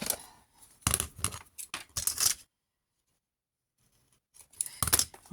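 Scissors snip through scrapbooking paper in several quick, close bursts, then a pause of near silence before a final cluster of sharp cuts.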